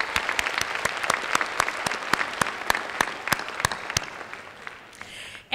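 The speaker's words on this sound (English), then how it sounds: "let's give her a round of applause" Sparse clapping from a small audience at a school committee meeting, honoring a grade 6 award winner who is absent; distinct individual claps ring out steadily for about five seconds before stopping abruptly.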